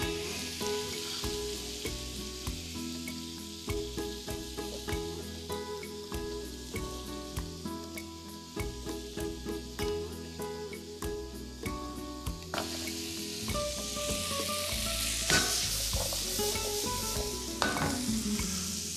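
Green onions fry in a hot pan with a steady bright sizzle, while a spoon scrapes and stirs at a regular pace. The sizzle grows louder and crackles more toward the end, with no talk.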